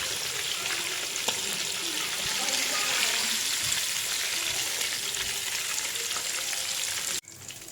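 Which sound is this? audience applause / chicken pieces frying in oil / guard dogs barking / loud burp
chicken pieces frying in oil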